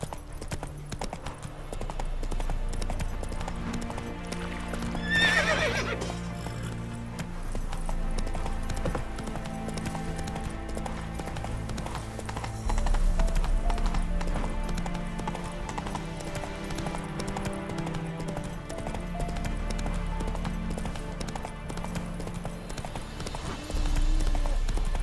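Roach, the horse in The Witcher 3: Wild Hunt, gallops with steady rhythmic hoof clip-clops over a constant music bed, with a brief whinny-like burst and a faint voice.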